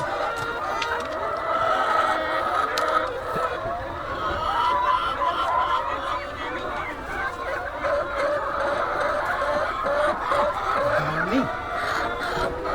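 Brown-egg laying hens on a poultry farm in Quezon, Isabela, clucking and crowing steadily over continuous barn chatter, with one louder call rising near the end and no clear talk over the flock.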